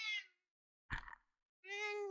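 A pet cat, eleven years old, gives two clear meows separated by a short pause, with a brief breathy sound between them, close and fairly loud with no talking.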